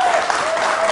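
Studio audience applause at a live Turkish folk music performance, a dense burst of clapping heard briefly and loudly on its own.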